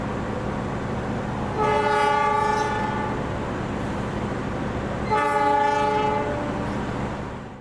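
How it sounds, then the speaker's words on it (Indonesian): An Indonesian passenger train rumbles past with clattering wheels while its horn sounds twice in long, loud blasts. "Ada kereta yang melintas langsung ya."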